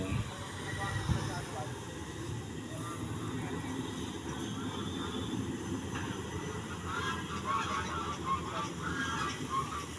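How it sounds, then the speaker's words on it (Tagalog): A flock of geese honks in a steady outdoor clamor, with traffic rumble and other background noise running underneath. "Ingay ng mga gansa."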